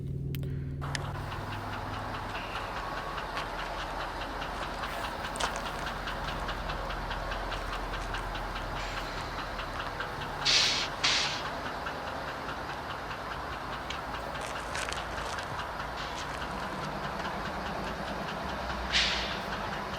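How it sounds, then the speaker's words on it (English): An Amtrak passenger train rolls through Barstow, a steady loud rumble of wheels on rail with rhythmic clicking over joints and a few sharp squeals, sustained throughout with no voices. "here comes a very late Amtrak 3 that's coming through Barstow"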